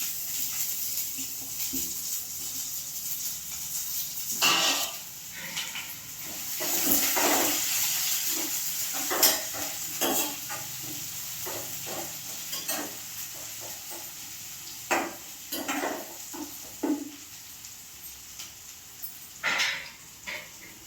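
Onions and green chillies fry in oil for a drumstick-leaf curry, a soft sizzle with repeated scraping and stirring sounds and occasional splashy bursts, fairly quiet throughout.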